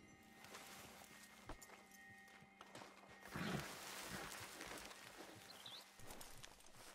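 A horse in the video game Red Dead Redemption 2 Online shuffles its hooves in faint, irregular clip-clops, with a brief louder scuffle and a soft whinny midway, all fairly quiet and close.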